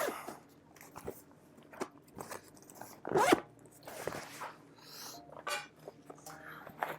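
An Evergoods PLC20 backpack's clamshell zipper is opened in several short rasping pulls, close and quiet, with faint handling rustles between strokes.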